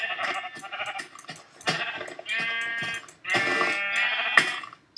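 Sheep in the Minecraft video game bleat repeatedly in several loud, close calls, with short gaps and clicking sounds between them.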